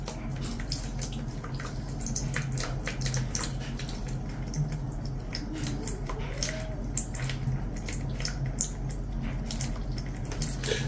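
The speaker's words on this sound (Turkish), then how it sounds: "Şimdi aşağı yukarı bir 3 dakika falan da bunu yıkayacağız." Water running steadily while the filters of an LG Plus++ water purifier are rinsed, a constant rushing and splashing flow with small drips and gurgles throughout.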